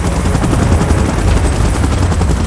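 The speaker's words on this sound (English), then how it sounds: "Chopper in position." Helicopter in the video game PUBG Mobile, a loud, steady rotor chop with dense rapid thudding that fills the whole short stretch close up, with no speech over it.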